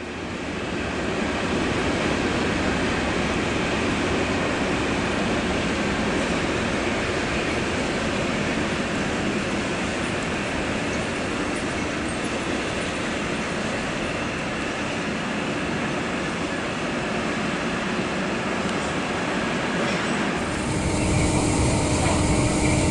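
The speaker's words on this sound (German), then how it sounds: "Der Bahnhof wird auch von Güterzügen durchfahren." Freight train passing through Crailsheim station in Germany, a long continuous roar of wagons rolling by, steady and loud, ending abruptly near the close.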